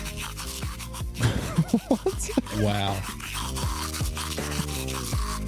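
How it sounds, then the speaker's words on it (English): An AI-made song cover built from electric toothbrush sounds plays as buzzing, pitched tones in a rhythmic melody, with a brief spoken exclamation over it. "This one is a toothbrush."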